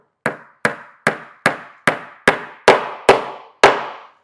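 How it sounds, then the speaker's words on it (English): Nails are hammered into wooden stool pieces, nine sharp, loud strikes at a steady, slightly quickening rhythm, each ringing briefly before the next blow. "you're going to hold your pieces together and tack in your first nail"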